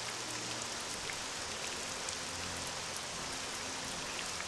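Steady rain falls in the video game Morrowind, a soft even hiss of drops with no talking over it.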